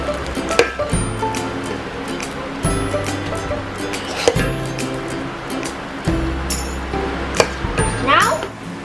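A spoon clinks and scrapes against a pot while mushy potato curry is dished out, with repeated sharp metallic taps and knocks over a low, quiet background.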